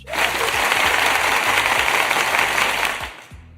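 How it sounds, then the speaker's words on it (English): A canned applause sound effect played on a livestream, a dense, even burst of crowd clapping at steady loudness for about three seconds before trailing off, with no voices over it. "I'm going to give you some applause for that"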